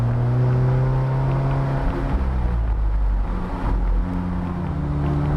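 2016 Alfa Romeo 4C Spider engine held at a steady drone, with a pitch drop around two seconds as a gear changes, then rising again, heard loud and close from inside the car without talk.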